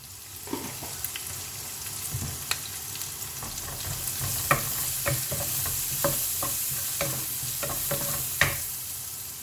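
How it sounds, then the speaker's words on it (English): Finely chopped shallots with a little turmeric fry in a pan, a steady close sizzle broken by scattered scraping stirs and light clicks of the utensil, no voices. "the shallots are well fried"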